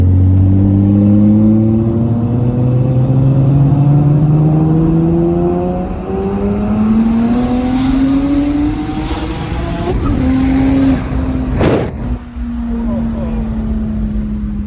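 A powerful BMW 135i engine roars close by, its pitch climbing hard through several gears with brief drops at each shift before surging again.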